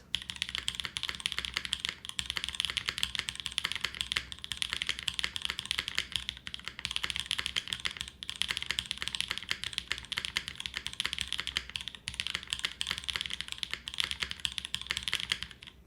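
Fast, steady typing on a glass mechanical keyboard without a desk pad, a continuous stream of crisp clacky keystrokes close up, with no voices.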